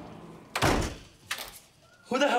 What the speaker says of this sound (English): Shut the door. Shut the door. Lock it.